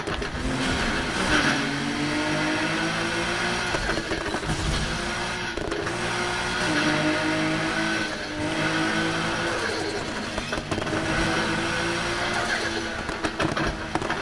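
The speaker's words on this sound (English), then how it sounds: "You hear that turbo sound?" A Mazda RX-7 engine in the video game Need for Speed Heat drones and revs steadily in the foreground, turbo audible, its pitch rising and falling through gear changes, with a faint voice underneath.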